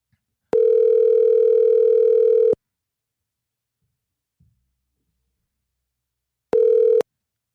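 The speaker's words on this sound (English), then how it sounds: "let's get Giovanni on the phone." A telephone dial tone sounds loud and alone as a call is placed, two sustained steady hums of about two seconds and half a second separated by silence, with a faint click between them.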